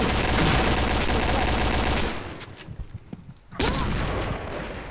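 Gunfire in the Point Blank shooter game, a loud sustained burst of automatic fire that breaks off into scattered single shots, then resumes in a heavy volley.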